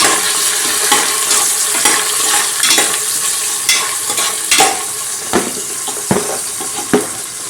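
Peas, carrot and other vegetables fry for vegetable pulao with a loud, continuous sizzle, broken by scraping stirs and a few sharp knocks of a spoon against the pan.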